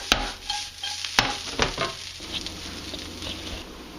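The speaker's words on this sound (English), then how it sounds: "At this stage we'll also need to be stirring the onions a little more frequently as well." Onions caramelizing in a pan get stirred, a few sharp spoon scrapes and knocks over a low sizzle that settles into quieter frying; no speech.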